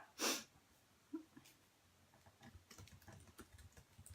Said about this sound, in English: I'm just typing on my computer.